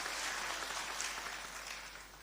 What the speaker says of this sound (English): So another round of applause for our choir.